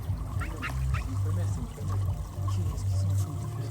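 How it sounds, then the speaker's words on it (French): Ducks fighting in Majorca quack and squabble loudly up close, with harsh honking bursts and splashing water under excited human voices. "il y a des canards qui sont en train de se battre"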